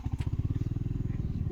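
A motorcycle rides along a rough, muddy rural road, its engine putting out a steady close, pulsing low thrum throughout.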